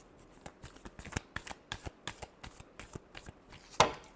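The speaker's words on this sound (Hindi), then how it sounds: "Last shuffle." Tarot cards are shuffled by hand in a quick series of crisp, close riffling taps, ending in one louder snap.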